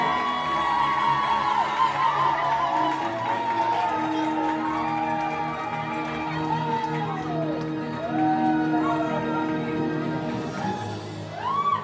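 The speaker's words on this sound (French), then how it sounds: "Applaudissez pour eux, applaudissez pour eux." Guests at a Gabonese wedding cheer for the couple with a sustained crowd roar and rising whoops and high shouts. Scattered voices fill the whole stretch, swelling again near the end.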